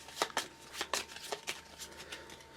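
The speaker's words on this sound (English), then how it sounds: "So I'm actually going to shuffle this" A deck of Marvel Champions experimental weapon cards being shuffled by hand, a series of quick papery riffles and slides in close, irregular bursts with no talking.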